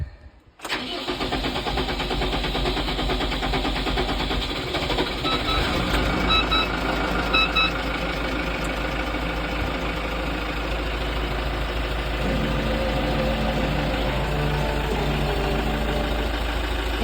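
A Workmaster 105 tractor engine cranks and fires within the first second, then settles into a loud, steady, close-up idle that runs evenly to the end with no talking.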